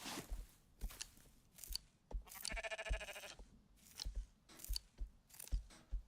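Sheep being sheared in the video game Rising World: rhythmic crunching snips repeat about every half second, with a sheep bleating once in the middle, close and clear over a quiet game background.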